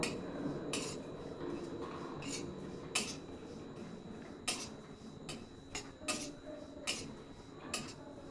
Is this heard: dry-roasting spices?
yes